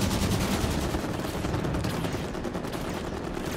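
Rapid automatic gunfire in a video game, a dense continuous rattle of shots running steadily through the whole stretch at fairly even loudness, with no talk over it.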